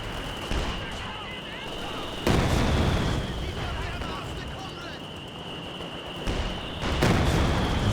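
Heavy mortar fire in Company of Heroes 2 thumps out as several loud, scattered explosions over a steady battle din, with a commentator talking throughout.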